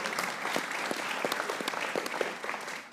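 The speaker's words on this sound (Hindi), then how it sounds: "आज बैठे उसकी तालियां बजाइए।" Studio audience clapping steadily on a Pakistani TV cricket discussion panel after Pakistan's T20 World Cup knockout, dense and close with sharp individual claps throughout.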